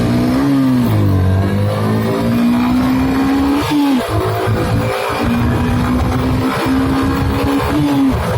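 A Yamaha FZ V3 motorcycle engine holds a loud, steady high-revving drone at top speed, with a brief dip and gear shift near the middle before climbing again, wind rushing throughout.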